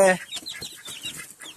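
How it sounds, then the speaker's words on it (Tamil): Several chickens at feeding time in a new coop, a busy cluster of short clucks and soft calls close by, overlapping in quick irregular bursts. "கோழிக்கு வந்து தீனி ஊற வச்சுருக்கேன்"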